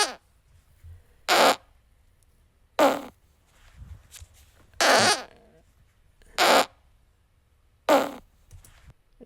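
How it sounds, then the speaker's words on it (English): Five short, loud farts, one after another with pauses between them, some buzzy and some trilling, close up in an otherwise quiet room. "This is his first fart here."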